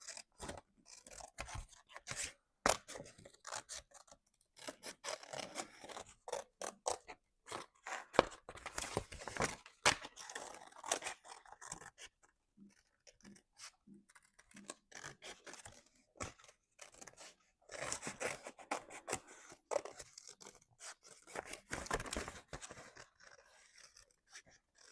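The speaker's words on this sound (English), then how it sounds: "I'm gonna fussy cut them as well" Quiet, close scissor snips come in irregular bursts with short pauses as paper images are fussy cut for a collage, with no talking.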